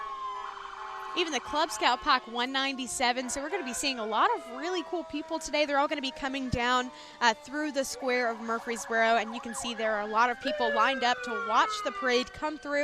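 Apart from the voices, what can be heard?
fire truck sirens at a parade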